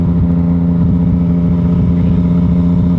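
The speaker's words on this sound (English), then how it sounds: "He's got a blown engine he's running around with." A vehicle with a blown engine runs close by, giving a loud, constant, rough low drone that holds steady throughout with no talking.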